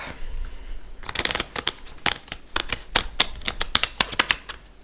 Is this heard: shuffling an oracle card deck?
yes